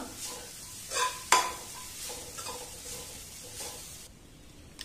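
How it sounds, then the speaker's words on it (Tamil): Grated coconut dry-roasting in a pan for modak, stirred with a spoon that scrapes and taps the metal in short bursts over a faint, low sizzle. "இதேமே லேசா வந்து நல்ல செவக்கணும்ல லைட்டா 1 நிமிஷம் வறுத்து எடுத்துடலாம்"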